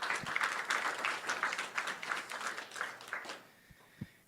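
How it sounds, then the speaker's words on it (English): Brief round of applause for a speaker at a research science update meeting, a moderate patter of clapping from a modest audience that fades after about three seconds, leaving a few scattered taps. "Let's give him one more round of applause."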